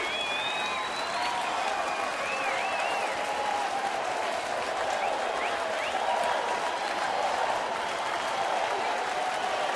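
A baseball crowd at a Cleveland at Detroit game stands and applauds, with steady distant clapping and cheering plus scattered whistles running for about ten seconds.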